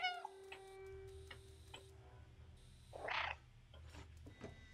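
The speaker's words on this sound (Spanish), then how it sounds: "Muchas veces se me olvida que puedo maullar" A cat meows in the video game Stray, a short call at the start followed by ticking and clicking game sounds, a brief rustly burst, and a low steady hum beneath, all fairly quiet.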